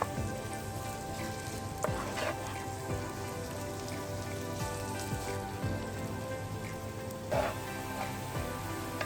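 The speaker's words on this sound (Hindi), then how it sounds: "प्याज को अच्छी तरह से ब्राउन कर लें" Chopped onions fry and brown in a pan for a hotel-style dal mash, giving a steady, dense sizzle like rain with occasional louder crackles and spatters, close and continuous.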